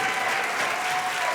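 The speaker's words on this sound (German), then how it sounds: "Applaus!" Audience at a song contest finale applauding, a steady dense wash of clapping from many hands without a break.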